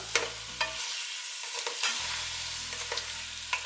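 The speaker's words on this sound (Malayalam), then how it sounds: "ഇനി നല്ലപോലെ ഒന്ന് മിക്സ് ചെയ്ത് കൊടുക്കാം." Paneer is stirred into biryani gravy in a pan, with close scraping strokes and a steady sizzle running underneath, plus a few sharp clinks of the spoon against the pan.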